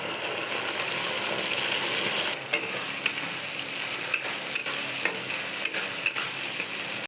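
Chilli chicken fries with green chilli and a sauce mixture being stirred in, a loud close sizzle that drops away, followed by regular sharp scraping clicks from a spatula against the pan.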